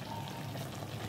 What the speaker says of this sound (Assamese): ভাজিখন হৈ গ'ল, এতিয়া পানী লাও বনাই